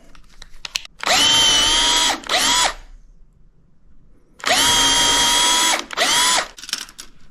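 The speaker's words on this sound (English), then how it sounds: "Then I use a 1/8 drill bit." A power drill fitted with a 1/8 inch bit bores into a wall, running in two loud bursts, each revving up, pausing briefly and finishing, separated by a quiet gap.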